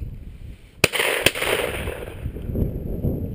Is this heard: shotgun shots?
yes